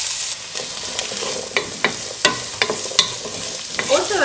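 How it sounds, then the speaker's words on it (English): Chopped onions and garlic sizzle in preheated oil for a fall soup, a steady frying hiss with scraping stirs and small clattering ticks, close and alone. "I have my chopped onions and garlic here in a bowl that are gonna go in right"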